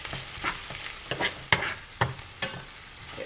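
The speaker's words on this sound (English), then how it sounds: "we're going to let this sit there and saute a little bit more so we can get those onions good and cooked in there" Onions sautéing in a pan for chili con queso, a quiet steady sizzle broken by a series of spoon scrapes and clinks as they are stirred.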